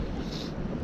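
Steady wind roaring across a microphone on the shore while fishing into the wind near a lighthouse, a constant low rumble and hiss, loud and unbroken, with no voices.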